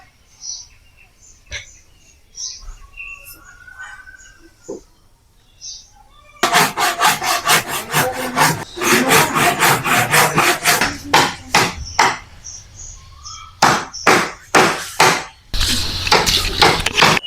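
Bamboo piece being cut for a homemade toy tractor, a rapid run of loud, close rasping saw strokes in steady rhythm that starts partway through after quieter handling noises.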